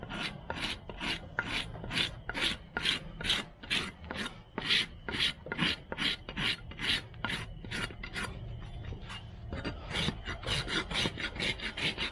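A farrier's rasp drawn over a horse's hoof during a barefoot trim, with steady rhythmic scraping strokes roughly twice a second, close and moderately loud, running for the whole stretch.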